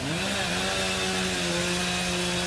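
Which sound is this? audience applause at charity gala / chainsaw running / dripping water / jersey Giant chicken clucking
chainsaw running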